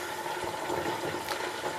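Butter simmering in a pot as it is clarified into ghee, giving a steady, dense bubbling and hissing wash that holds at an even level throughout.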